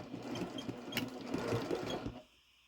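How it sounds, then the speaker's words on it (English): Sewing machine stitching Halloween quilt fabric, a steady close whirring run of about two seconds that stops abruptly, no talk. "So I'm just going to sew the other side up."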